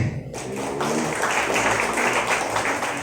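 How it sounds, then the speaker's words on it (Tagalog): A church congregation claps together in a dense, continuous wash of many hands. It stays loud and steady for the whole few seconds without a break. "Ang lahat na nakakaintindi, pumalakpak."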